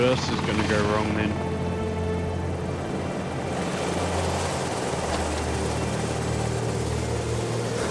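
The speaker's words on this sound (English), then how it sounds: "We're on the helicopter." Helicopter interior drone from the video game Dead Island Riptide, a steady low rotor and engine rumble running throughout, with a voice talking over the start.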